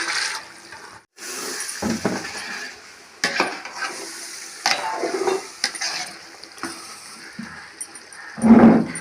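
Water poured into soaked basmati rice for country chicken biryani cooked over an outdoor stove: irregular splashing and sizzling bursts, close by, with brief pauses between pours.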